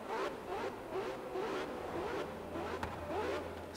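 A car engine in Forza Horizon 3 revs quickly up and down in repeated rising and falling sweeps, a steady mid-pitched drone with a brief sharp click partway through.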